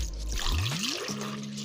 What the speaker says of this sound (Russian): Итак, выливаем 200 мл молочка, миксер наш.